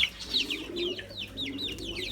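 Village chickens clucking and chirping busily with other birds in a pet shop, a steady overlapping chorus of short calls at close range, no voices.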